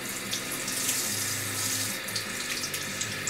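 Tap water runs steadily into a sink to wet the hands before trying a LUSH soap, a continuous close splashing stream with no talking.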